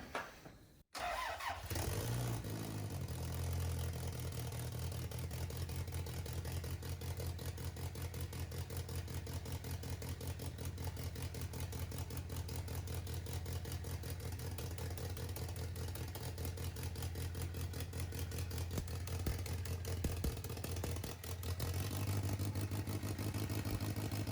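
A home-built Toyota Celica GT-4 engine cranks briefly, catches, and settles into a loud, steady idle close by, with a rapid even pulse that continues for over twenty seconds, a slight change near the end.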